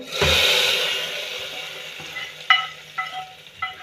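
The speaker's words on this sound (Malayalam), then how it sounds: "അപ്പോൾ ഗൈസ്, വറവിടുകയാണ്." Onion, mustard seeds and curry leaves hit hot oil for a tempering, giving a loud initial burst of sizzle that gradually fades. Several sharp crackles and pops follow near the end.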